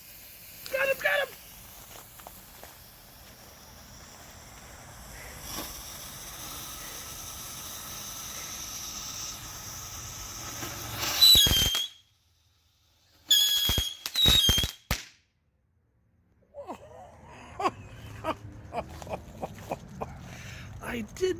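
Dominator Happiness Fountains fireworks hiss steadily for several seconds, then a series of sharp pops and crackles burst out, some bangs firing up into the air, with voices speaking faintly outdoors.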